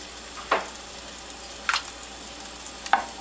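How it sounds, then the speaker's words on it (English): Garlic sizzling in olive oil in a pan over low heat, a soft steady crackle with three brief louder scraping stirs spaced about a second apart, close by and without talking. "And then I'm going to add my garlic."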